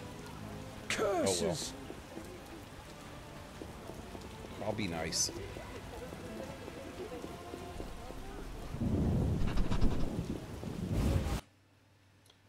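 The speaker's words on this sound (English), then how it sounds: "The scourge of the lords, this rain." Rain falls steadily in the video game The Witcher, a continuous hiss with a heavier swell near the end, while a person talks over it.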